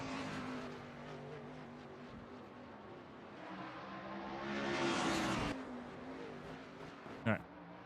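A race car engine in a racing game on the dirt track at Eldora drones steadily, swelling into a louder rev midway before dropping back, with a brief sharp burst near the end.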